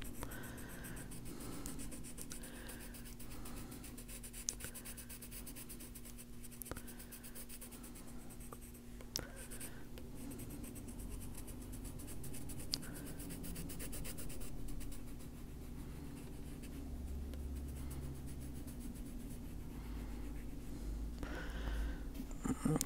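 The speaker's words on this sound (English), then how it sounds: "Just using the side of the pencil lead to get as much color down as I can" The side of a colored pencil lead shades across a coloring book page with light pressure in a continuous close scratchy rasp of long back-and-forth strokes, with a steady low hum underneath and no speech.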